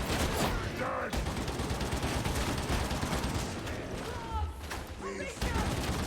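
A rapid-firing Krourk gun wielded by an Ogryn in Darktide, thumping fast shots under a steady loud roar of battle, with someone talking over it throughout.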